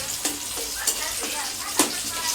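Chopped onions and green chillies frying in a pan: a steady bright sizzle broken by a few sharp stirring scrapes.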